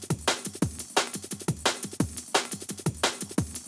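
Sampled break beat in a jazzy drum and bass track, a fast, busy loop of punchy kicks and bright snares driving steadily and evenly for several seconds, with no voices.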